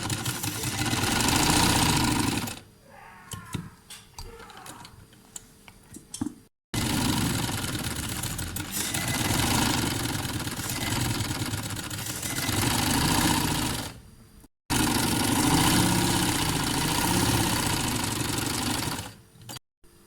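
A sewing machine stitching elastic into the waistband of capri trousers runs in three long, close, steady bursts, separated by short pauses while the fabric is repositioned.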